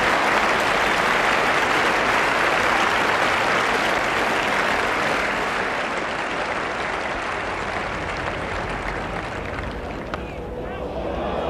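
A Headingley cricket crowd at the 1989 England versus Australia Test gives warm, sustained applause to a batsman reaching 150, a broad wash of clapping that slowly fades under a commentator's voice.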